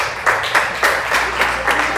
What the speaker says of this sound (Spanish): ¿Por qué no le damos un aplauso a Julio esta noche?